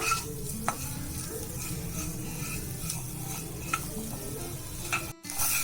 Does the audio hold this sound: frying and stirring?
yes